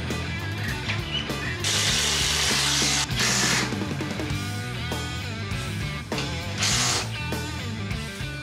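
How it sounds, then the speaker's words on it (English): A ratchet tightens the winch mounting bolts on an ARB bull bar, with steady clicking pawl strokes and bursts of louder mechanical rasping over ongoing workshop noise, near and loud. "Tighten all 4 winch mounting bolts"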